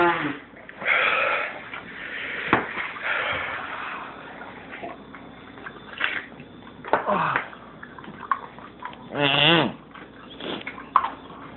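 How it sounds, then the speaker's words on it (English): Nose blowing by a person after eating habanero pepper, with repeated snorty bursts, sniffs and a honking wheeze near the end, loud and close with brief pauses between blows. "I blow my nose."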